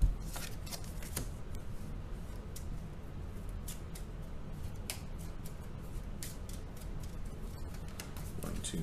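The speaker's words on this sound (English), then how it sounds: "And this one, shuffle it up," A deck of cards is shuffled repeatedly during a tabletop board game playthrough, a steady close riffling and sliding with crisp flicks throughout, alone without talk.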